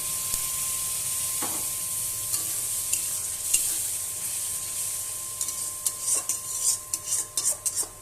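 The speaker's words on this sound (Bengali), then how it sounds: "এখানে একটু সামান্য জল দিয়ে দেবো" Pointed gourd sizzles in a pan as a little water is added, a soft steady hiss with scattered scrapes, then quick metallic clinks and stirring knocks building toward the end.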